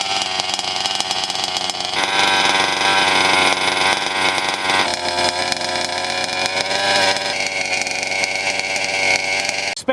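A 5th scale petrol RC truck engine runs loud and raspy with a buzzing, high-revving drone. The pitch shifts in a few steps across the run, with no talk over it.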